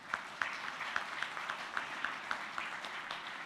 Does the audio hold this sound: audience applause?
yes